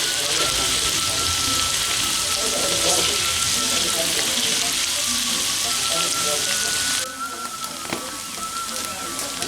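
Loud, steady sizzling of shallots frying in hot oil for Balinese chicken lawar, a dense crackling hiss that drops noticeably quieter near the end.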